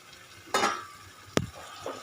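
Fried pointed gourd goes into cooked-down masala in a pan, heard as a couple of short, close clatters and stirring scrapes over a low sizzle.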